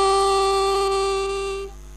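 A harmonica plays a single sustained three-hole blow note with the hands held open, a bright reedy tone that holds steady and fades out near the end.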